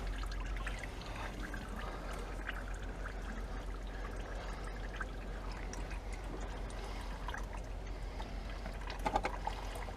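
Engine oil drains and drips from beneath a Fiat Punto 1.4 T-Jet during a service, a faint steady trickle over a quiet garage background with no speech.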